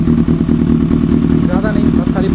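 A Kawasaki ZX6R motorcycle engine idles steadily while warming up before home servicing, a close, continuous low rumble with faint mechanical clatter, under someone talking.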